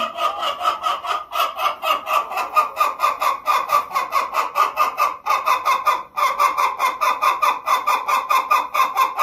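Chickens cluck loudly and continuously in a fast, steady rhythm, a dense chorus of close-up calls running throughout with no talking.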